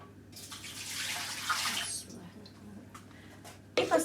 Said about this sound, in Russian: Налить сюда литр воды.